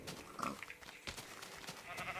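Cows in a farming video game, giving short low animal grunts and bleats against a busy game soundtrack, loud and close, with no talking.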